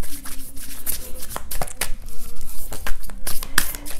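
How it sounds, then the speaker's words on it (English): A new tarot deck is shuffled by hand close up, the stiff fresh cards giving crisp rapid riffling and flapping bursts interrupted by brief pauses. "I'll just shuffle them"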